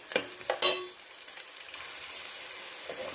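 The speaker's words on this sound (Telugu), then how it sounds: "నూనె వేడైనాక కొంచెం ఉల్లిగడ్డ, కొత్తిమీర, కసూరి మెంతి, 2-3 పచ్చిమిర్చి వేసి కొంచెం ఫ్రై చేయాలి." Onion, coriander, dried fenugreek leaves and green chillies fry in hot oil for a Telangana fish curry, opening with a few sharp utensil clinks and stirs before settling into a soft, even sizzle.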